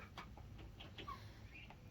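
Chickens clucking softly in a backyard coop beside a pressure-treated 2x12 ramp, with several short, scattered clucks over a steady low background hum, fairly quiet and no one talking.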